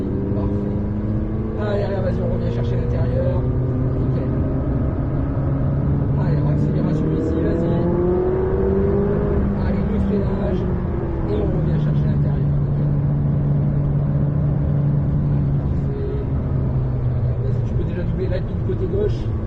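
A McLaren 600LT's engine roars from onboard during a driving course at the Le Luc race track, its loud, steady drone rising in pitch as it accelerates, while an instructor talks continuously over it.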